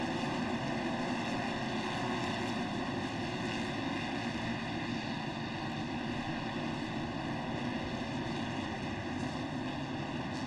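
Lite off-road buggies racing at Crandon make a loud, continuous engine roar and drone that holds steady throughout, with no talk over it.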